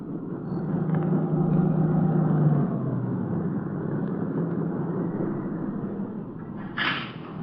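A sedan swings off a dirt road and pulls to a stop near a shack in a radio drama, its engine a low, steady rumble that eases down as it slows, followed by a brief squeal near the end.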